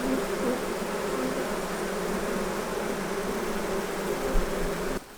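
Honey bees swarm around an open single-brood-chamber hive, a dense steady buzz filling the whole stretch, close and continuous, before it cuts off abruptly at the end.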